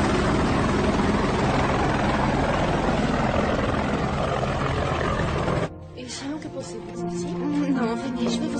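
A helicopter lifts off with a loud, sustained rotor and engine roar that drops away abruptly, followed by quieter mixed sounds.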